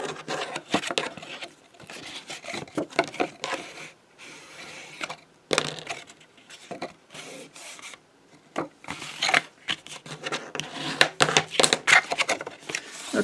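A fingernail runs along folded printed paper for a matchbox craft to sharpen the creases, making bursts of dry scraping and rubbing with short pauses, close and without talk.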